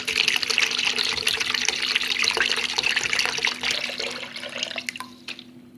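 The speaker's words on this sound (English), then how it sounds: "in the container, I'm putting this fresh coconut water, which is already in the tetra pack." Fresh coconut water pours from a tetra pack into a container in a continuous splashing stream that tapers off near the end, close and fairly clear.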